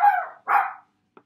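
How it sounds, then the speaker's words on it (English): A dog barks twice in quick loud sharp bursts close by, then one faint short sound follows before silence. "That's my dog's barking."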